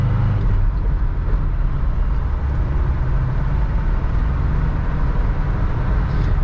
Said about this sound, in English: And this thing gets up to speed.